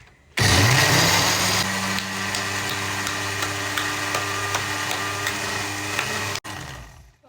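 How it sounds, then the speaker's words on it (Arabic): Electric blender whirring steadily as it mixes milk and oil for a cake batter, loud and close, running alone for about six seconds before cutting off abruptly. "هنضرب في الخلاط"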